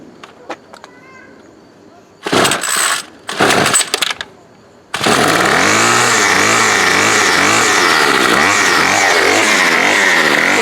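A Bolens BL110 25cc gas trimmer engine starts after a few sharp pull-start bursts and then runs loud and steady close by, with brief voices before it fires.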